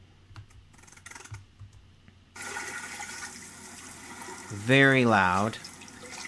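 Water splashing sound effect: a steady splashy wash starts partway through, with a brief loud tonal call rising over it near the end; a voice speaks briefly.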